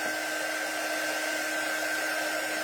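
Hair dryer blowing steadily on wet ink over a slick surface, a constant close whirring roar with no breaks or talk.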